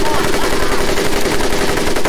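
Dense, continuous gunfire from the Medal of Honor video game, a loud rapid machine-gun stream with no pauses, filling the whole short clip.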